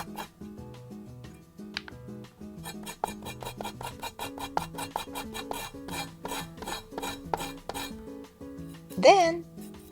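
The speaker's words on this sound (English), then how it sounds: "use the back of a knife to gently scrape off the outer skin" The back of a knife scrapes the skin off a burdock root, a rapid run of close rasping strokes over soft background music, ending in a brief louder scrape.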